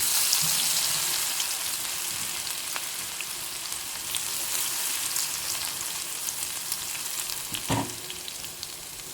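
Chili and onion sauté in hot oil with asafoetida, garlic and black pepper, a steady close sizzle that fills the whole stretch with a few soft stirring knocks and no talk.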